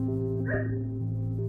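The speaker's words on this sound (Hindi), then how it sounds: "भाई ये कुत्ते भी तक भौंक रहे हैं भाई," Dogs bark and yip outdoors near a beach, a short bark rising over a steady low hum, with no talk.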